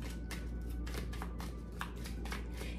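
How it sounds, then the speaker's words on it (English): Tarot cards being shuffled by hand, quiet riffling bursts and soft slaps repeating in an uneven rhythm, close but faint over a low background hum. "Shuffle for Sag."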